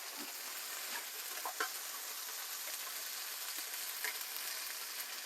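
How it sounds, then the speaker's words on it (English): Continuous bright sizzling of food frying in a pan, even and moderately loud, with a few faint clinks, no voices. "As you can hear, it's sizzling away."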